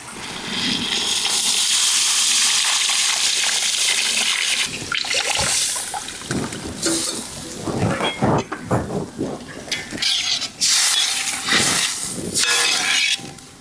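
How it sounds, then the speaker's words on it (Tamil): Tamarind water pours and splashes into a sizzling pan of curry, a steady hissing rush that breaks into bubbling and spattering bursts, close and fairly loud. "இப்போ புளி ஊற்றிக்கலாம்"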